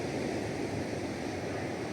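Waves wash onto the sandy shore of Stidia beach in a steady, continuous roar of surf mixed with wind, with no clear breaks between them.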